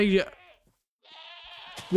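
Goats in Minecraft giving two quick, close, nasal bleats separated by a short silence, with a voice briefly audible at the edges.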